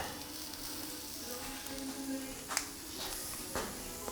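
An omelet frying in a very hot pan gives a steady crackling sizzle, broken by a couple of sharp clicks near the end.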